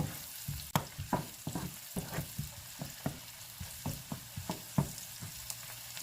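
Chopped garlic frying in a pan with butter for sweet and spicy buttered shrimp, a steady close sizzle with soft crackles and repeated light stirring taps, no voices.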